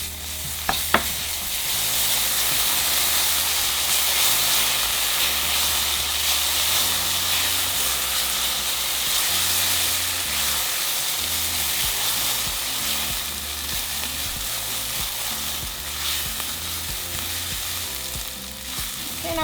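Rice and minced garlic fry in a pan for jalapeño rice, giving a steady, dense sizzle that runs unbroken and fairly loud throughout, with no talking.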